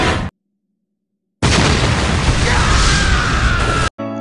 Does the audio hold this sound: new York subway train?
no